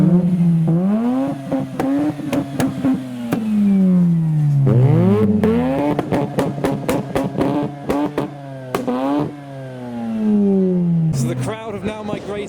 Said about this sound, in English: The RX-8 is now departing the show.